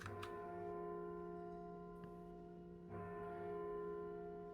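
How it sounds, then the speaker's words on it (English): Bells ring as a sound effect during a Curse of Strahd tabletop game session, a soft, distant tolling with long sustained tones and a few fresh strikes, heard alone and faint. "you hear those bells for a moment"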